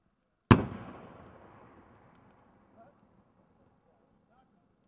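A single brocade firework shell bursts at a spring fireworks demonstration with one loud sharp bang, followed by a long fading crackling hiss as the trails fall, heard from a distance with no talking.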